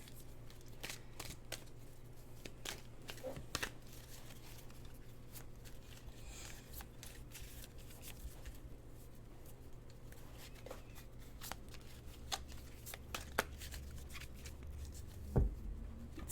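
Soft, intermittent tarot card shuffling with light riffles and taps, fairly quiet against a steady low hum, no talking.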